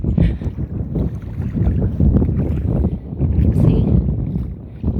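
Strong wind at the shore during a seining outing buffets the microphone with loud, gusty low rumbling that surges and dips continuously.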